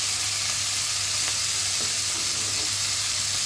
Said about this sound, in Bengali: মাছগুলো হালকা একটু ভেজে নেব